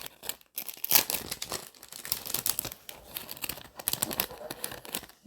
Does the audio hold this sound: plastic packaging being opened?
yes